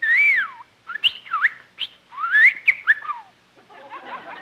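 A talking bird on a 1954 Jack Benny radio show whistles a run of bright, sliding chirps and warbling phrases, close and alone with short pauses between bursts.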